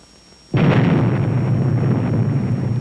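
A 1953 atomic bomb test detonation bursts in suddenly and loudly after a brief quiet, then rolls into a sustained, heavy, broadband roar that persists without fading.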